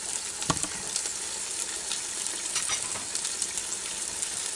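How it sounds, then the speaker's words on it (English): Steady, close-up sizzling of game hens roasting in a Ninja Foodi air fryer, a continuous crackle with small pops, no voices. "You can hear them just a sizzling down in there."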